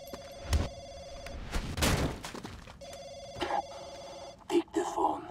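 A telephone rings in the video game Splinter Cell Conviction, with two distinct bursts of ringing separated by sharp thuds and muffled in-game voices.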